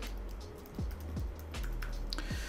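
Keystrokes on a computer keyboard while a password is entered during a crypto wallet setup, a few quiet, irregular taps close to the mic over a low steady hum, with no talking.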